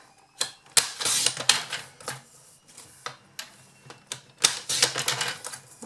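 Paper cardstock being trimmed down to size for a Paper Pumpkin card kit, heard as a series of close, sharp cutting strokes and rustles that come in uneven bursts with short pauses between them.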